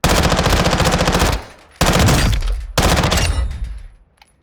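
A gun fitted with a 50-round drum fires at targets in Call of Duty MW2 DMZ, delivering three rapid automatic bursts, the first long and the next two shorter, loud and close with brief pauses between.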